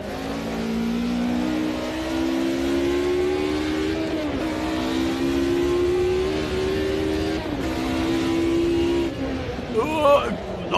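Mercedes race car in the Automobilista 2 sim racing game on the Nordschleife, its engine droning steadily with rising and falling pitch through gear changes, a player talking over it and a brief tire or skid burst near the end.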